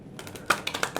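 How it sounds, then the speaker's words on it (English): Tarot cards shuffled by hand during a card reading, a brief run of soft papery riffles and flicks with a few sharper snaps, close and fairly quiet. "And then that shuffle was terrible."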